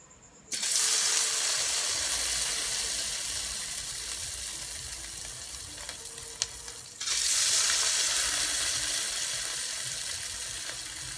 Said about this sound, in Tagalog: ngayon ay mainit na ang mantika, kaya sisimulan ko na ang pagprito nitong patatas